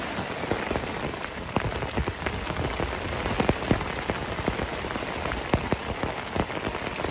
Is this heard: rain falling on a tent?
yes